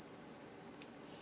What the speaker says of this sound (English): Some kind of alarm went off.